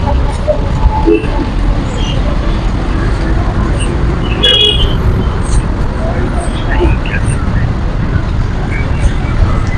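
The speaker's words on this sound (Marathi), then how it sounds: "बघा मित्रांनो पुण्याची ट्रॅफिक." Road traffic at a junction in Hinjewadi, Pune, during light rain: a steady low rumble of passing vehicles, with scattered horn toots and a brief sharper tone in the middle. Voices are heard faintly in the background.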